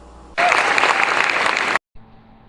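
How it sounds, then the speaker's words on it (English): Enthusiastic audience applause greets a speaker after an introduction, a loud, steady burst of clapping lasting over a second before cutting off abruptly into quiet room tone. "Now just quit clapping."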